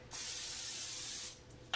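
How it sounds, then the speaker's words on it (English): A single short hissing burst of aerosol non-stick cooking spray onto a pan, close by, lasting about a second, followed by a small clink. "You want to be careful when you're spraying a pan with a non-stick spray"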